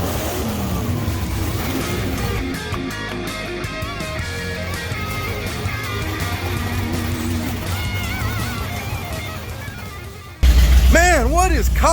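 The BarelyCuda, a vintage Barracuda race car with a blown big block 440, rumbles and revs through a busy, mixed scene with voices talking. The engine surges much louder and harsher in the final moments.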